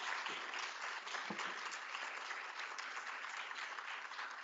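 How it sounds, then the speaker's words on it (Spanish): Sustained applause from a crowd at an opening ceremony, dense and even clapping that holds steady throughout with no voices. "le reiteramos el aplauso"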